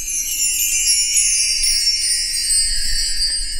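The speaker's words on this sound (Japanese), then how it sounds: "これは自作したウィンドチャイムなんです" A continuous shimmer of bright, high metallic chimes from a homemade wind chime rings steadily and close, with no pauses or voices.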